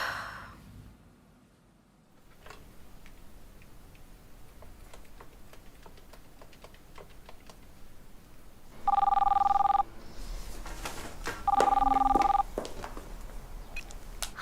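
A telephone rings twice in a quiet room during a Hindi-dubbed Hollywood thriller horror film, each ring a loud, steady electronic trill of about a second, with soft ambient noise and faint clicks between them.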